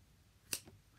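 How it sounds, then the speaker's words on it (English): Scissors give a single quick snip through a small tuft of hair, a crisp close click in an otherwise quiet moment. "I give it a snip."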